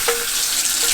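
Cold water runs steadily from a faucet with a plugged hose in an off-grid tiny house, a close, continuous hissing splash with no talk.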